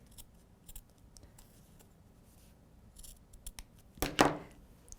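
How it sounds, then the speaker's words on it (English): Scissors snip a slit into fabric in short, quiet clicks, ending with one louder, sharper cut close by, with no talk. "once you kind of get your slit going and you can get your scissors in there,"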